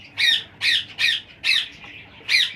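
Cockatiel in a breeding aviary squawking five times in sharp, evenly spaced bursts, close and loud with no talk.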